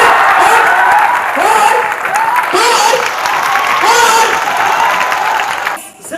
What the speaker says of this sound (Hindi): मैं चाहूंगा एक बार आप जितने भी यहाँ पे अतिथिगण बैठे उनके लिए क्यों ना तालियां बजा लीजिए।